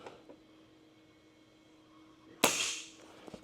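A single sharp crack from a Diana XR 210 pre-charged pneumatic air rifle firing, close and loud with a brief airy tail, after a quiet stretch with faint small clicks.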